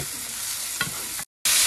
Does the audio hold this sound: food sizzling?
yes